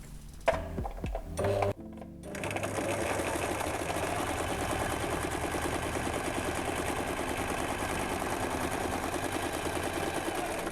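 A sewing machine stitching a flat fell seam, a few handling clunks and then a steady, fast mechanical whirr with rapid needle ticking that runs close and continuous to the end.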